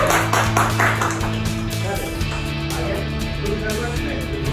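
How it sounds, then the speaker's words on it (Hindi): An acting class claps before the first take of a short-film scene, a brief patter of hands over a steady musical hum that fades after a couple of seconds. "तालियां।"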